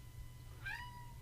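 A domestic cat gives one short, clear meow indoors, standing out above a steady low background hum.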